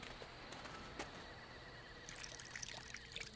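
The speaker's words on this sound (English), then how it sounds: "pour water onto the dry area" Water poured onto dry earth in the video game The Book of Unwritten Tales, a faint, quiet trickle and splashing with small droplet ticks, steady and close.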